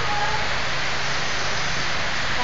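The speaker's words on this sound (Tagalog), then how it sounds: "It's raining cat and dog here in the Philippines." Heavy rain pours steadily in the Philippines, a dense, even hiss that fills the short moment loud and close, with no other sound standing out.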